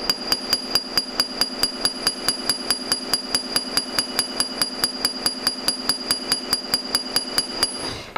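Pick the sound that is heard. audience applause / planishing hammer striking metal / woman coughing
planishing hammer striking metal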